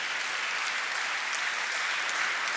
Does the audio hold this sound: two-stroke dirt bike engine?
no